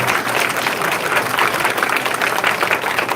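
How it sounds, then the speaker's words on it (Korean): Audience at a church special testimony gathering applauds a lawyer, steady dense clapping that fills the room loudly and continuously from start to finish. "다시 한번 박수 주십시오."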